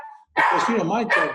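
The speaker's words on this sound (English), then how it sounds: "That's my dog wanting to go out." A dog barks and whines briefly as it wants to go out, a short sound at the start before a man's close speech takes over.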